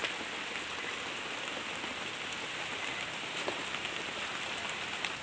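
Rain falling at night outdoors, a steady, dense hiss of drops striking surfaces, constant and fairly close, with occasional louder individual drops and no talking.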